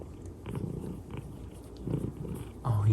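Male cat purring softly while getting a chin scratch, a low continuous rumble close to the microphone with a brief louder growl-like stretch near the end, and a person talking gently over it.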